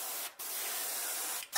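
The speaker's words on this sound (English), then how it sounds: "so let's just spray lightly along the mid-body." Two short bursts of aerosol spray paint hiss across a crankbait fishing lure, a long steady spray followed by a brief second one, close and even with no voices.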